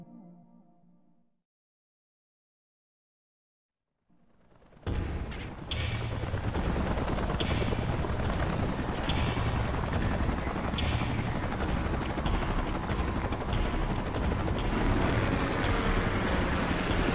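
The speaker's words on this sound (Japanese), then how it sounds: "回収ヘリを回してもらって" A recovery helicopter in the video game Xenoblade Chronicles X: after a brief low rumble and a few seconds of silence, loud rotor thumping and engine roar start up and hold steady, with rapid gunfire-like bursts mixed in.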